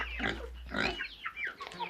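A farmyard pig grunts and snorts close by in a series of short, uneven bursts, with no voices over it.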